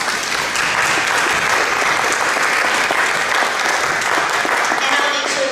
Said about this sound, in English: let's do give him a round of applause